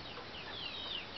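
Chenchu breed chickens and roosters in a tribal village of Kutur, Khammam, clucking briefly and faintly in a short, steady outdoor burst with no voices.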